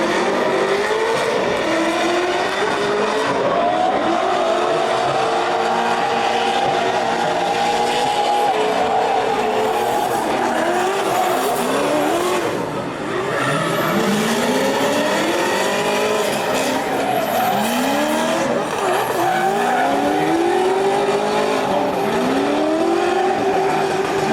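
Race cars at a Great Lakes Pro Am drag racing event roar loudly and continuously as they launch down the track, engine pitch rising and falling in repeated sweeps with a brief dip partway through.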